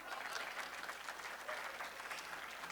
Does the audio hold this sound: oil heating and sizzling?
no